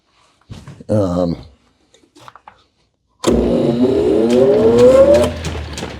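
A 1904 Orton 30-inch planer with a spinning cone clutch starts up after a brief spoken remark. Its loud, close mechanical whine climbs steadily in pitch for about three seconds as it spins up.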